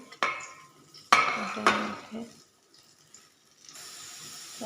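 Fish pieces being marinated and mixed in a bowl, with a few sharp clinks and wet squelching stirs in close succession, then a quiet pause and faint background hiss.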